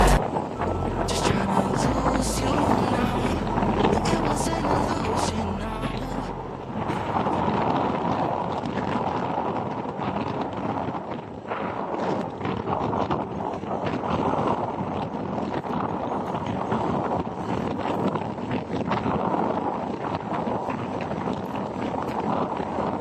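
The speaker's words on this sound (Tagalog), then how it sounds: "sobrang lakas na hangin" Strong wind in a rural province buffets the microphone with a continuous, loud rushing roar that fluctuates slightly but never lets up.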